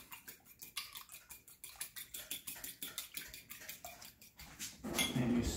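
Egg and milk stirred in a bowl for chicken cutlets: a steady, rhythmic run of close, quiet whisking and scraping strokes, with a louder clatter at the end.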